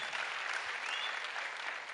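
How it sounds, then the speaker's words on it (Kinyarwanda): An audience applauding a pianist at an event, a full steady clapping of many hands, moderately loud and continuous throughout. "Mumukomera amashyi menshi cyane."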